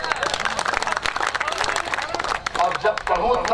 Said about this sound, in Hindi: बहुत कम तालियां, इतनी तालियों में काम नहीं चलेगा।